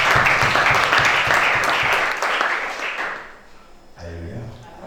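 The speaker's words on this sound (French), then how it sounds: "Acclamez ça." A church congregation applauding during a French-language prayer and deliverance service, steady dense clapping for about three seconds that fades out, followed by a voice speaking.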